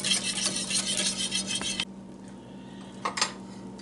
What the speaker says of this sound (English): And we stir for another 2 minutes.